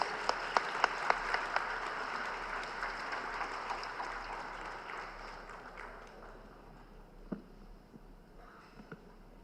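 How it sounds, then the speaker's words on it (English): Audience applause at a university convocation ceremony in a large hall, a faint, distant wash of clapping that thins out and fades, leaving a few scattered claps near the end. "Please join me in welcoming him with a big round of applause."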